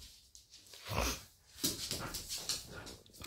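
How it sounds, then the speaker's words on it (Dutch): A very large puppy whimpers and pants nearby, with soft, uneven whines and breathy huffs repeating over a few seconds, fairly faint. "Dit is gewoon een heel groot pup."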